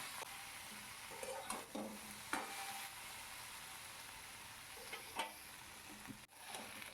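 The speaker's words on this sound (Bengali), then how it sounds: "দেখো ভেন্ডিটা আমার ভাজা হয়ে গেছে কোনো লটপটে ভাব নেই" Okra frying in a kadai and stirred with a spatula: a soft, steady close sizzle under repeated scraping strokes, with no talk.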